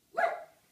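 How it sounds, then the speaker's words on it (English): A single short dog bark, close and moderately loud, fading quickly. "if you bark one more time, you're going to go in timeout."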